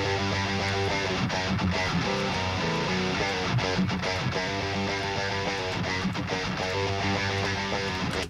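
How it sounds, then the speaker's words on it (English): A clean, twangy electric guitar recorded direct-in, with no amp, plays a dry riff for a metal song. Picked notes ring bright and thin in a steady rhythm throughout. "you got that twangy DI guitar"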